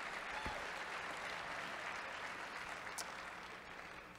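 An audience claps and cheers for a live band at a concert, a dense, steady wash of applause that holds throughout and fades slightly at the end.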